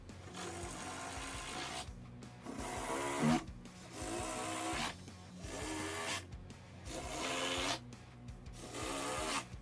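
A power drill driving screws into wood while building a mobile flip-top workstation, with several sustained whirring runs separated by short pauses, close and steady.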